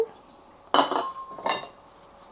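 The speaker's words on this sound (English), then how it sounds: "And whisk." A metal whisk strikes a bowl of egg yolks and sugar, giving two short clattering clinks a moment apart with quiet between them.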